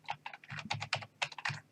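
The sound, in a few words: typing an IP address on a computer keyboard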